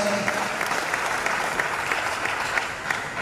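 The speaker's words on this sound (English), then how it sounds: "Please, another round of applause for Dr. Maxwell and Mr." An audience in a university great hall claps for two speakers at an entrepreneurship campus event, a steady, full round of applause holding at even loudness throughout.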